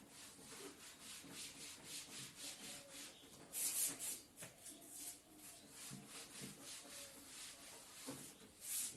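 A classroom board is rubbed to erase it, giving faint, close, rhythmic scrubbing strokes that repeat steadily for about nine seconds.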